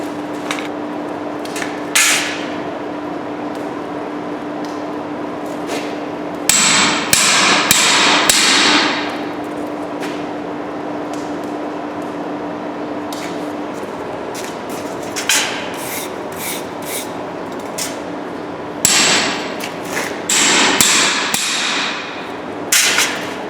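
Repeated hammer blows on a chisel cutting a groove, coming in bursts of rapid strikes separated by pauses, close and loud, with a steady hum underneath.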